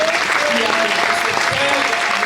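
Congregation clapping at a church service, a dense, steady wash of applause filling the whole stretch, with voices faintly mixed in.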